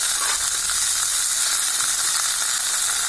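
Chopped onion and one tomato frying in a hot pan, a loud, dense, continuous sizzle with steady hiss throughout and no voices.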